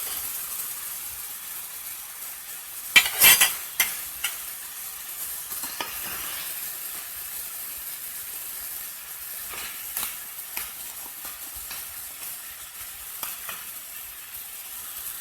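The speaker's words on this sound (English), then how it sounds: "Wait until the shrimps are cooked and the onion are start to the color change to golden." Shrimps and onion fry in a pan with a continuous hiss of sizzling oil, broken by a burst of spatula scraping and stirring early on and lighter clinks later.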